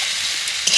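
Potatoes with spices including cumin powder frying and being stirred in a pan, a steady close hiss of sizzling with a faint scrape near the end.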